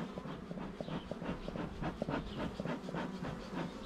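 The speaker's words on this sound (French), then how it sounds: "un petit coup de fumée pour les faire rentrer" A beekeeper's smoker sends repeated airy puffs of smoke into a trap hive, a regular series of soft hissing bursts at close range with no voices.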